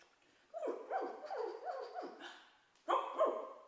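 A dog on a farm barks in a run of about five yipping barks, then pauses and gives a couple more, fairly close and clear with no talk.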